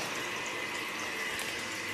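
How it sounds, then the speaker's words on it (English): Steam and water spit from the drain of a hot chiller during a homebrew beer boil, a steady hissing, sputtering wash of liquid, fairly quiet and continuous with no talk. "Now that instantaneously starts spitting out steam and water, and the drain starts getting real hot."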